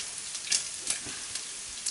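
Bacon and its rendered fat frying in hot oil before cabbage goes in, a close, continuous crackling sizzle with small popping bursts.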